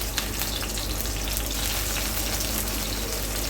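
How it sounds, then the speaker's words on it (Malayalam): Mustard seeds, green chillies and curry leaves fry in hot oil for a cauliflower curry, giving a steady, dense, close sizzle and crackle throughout with no voices. "കടുക് പൊട്ടി വരുമ്പോഴേക്കും ഇതിലേക്ക് നമുക്ക് 4 പച്ചമുളക്, കുറച്ച് കറിവേപ്പില ചേർത്ത് കൊടുക്കാം."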